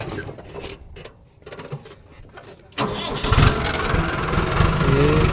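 A tractor on a pomegranate orchard, used for spreading fertilizer, cranks and then catches with a sudden loud roar midway, settling into a steady rumbling idle after quiet background noise.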